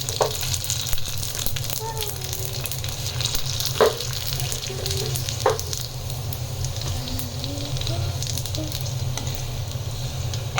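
Puchka balls puff up in hot frying oil with a constant close, crackling sizzle and bubbling, a few louder pops and stirring clinks standing out, plus faint voices in the background.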